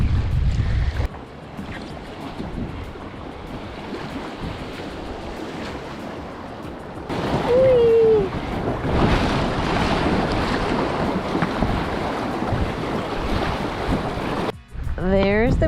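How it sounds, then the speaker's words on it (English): Strong wind buffets the microphone while waves slap and wash on a glacial lake in Alaska during a packrafting crossing, a loud continuous roar with brief lulls. "So the wind's picked up."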